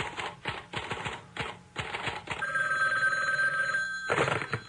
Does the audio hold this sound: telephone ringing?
yes